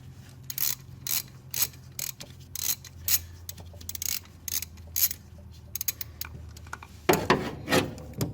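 Ratchet wrench loosening a bolt, a quick series of close, crisp clicking strokes in an irregular rhythm with a louder rattle near the end.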